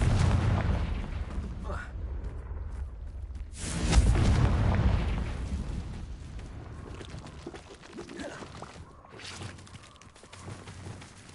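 Fiery explosion spell blasts from the video game Hogwarts Legacy, a loud booming burst near the four-second mark with rumbling crackle trailing off, amid other spell effects and game sounds, with a voice calling out spells.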